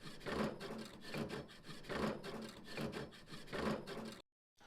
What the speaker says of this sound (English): we'll give our grates a quick scrape